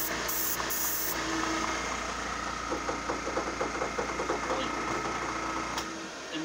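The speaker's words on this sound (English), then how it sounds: "my air compressor's dancing around for some reason" An air compressor used for airbrushing runs with a steady mechanical drone and a quick rhythmic clatter from the unit shaking, continuing throughout before cutting off near the end.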